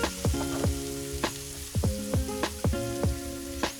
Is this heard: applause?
no